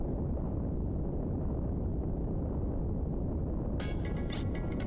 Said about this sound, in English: a lovely explosion so boldly large